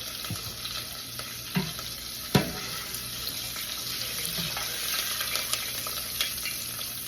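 Food frying in a pan, a loud continuous hiss and sizzle close by, punctuated by a few sharp clanks of a spoon against the pan, with no speech.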